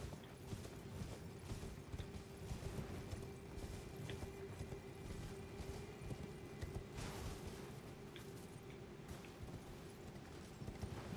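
Horse galloping in Elden Ring, rapid muffled hoofbeats drumming steadily under a low game ambience, moderately loud and continuous without talk.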